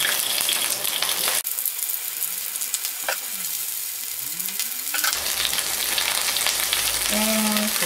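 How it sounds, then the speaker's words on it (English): Onion sizzles in hot oil in a pan for sukiyaki, a steady bright frying hiss with a few stirring clatters and a brief pause near the start. "And pan is hot. Put into the oil. First put into the onion."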